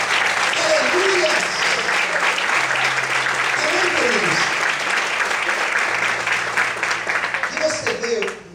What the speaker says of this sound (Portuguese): Você pode aplaudir o Senhor essa manhã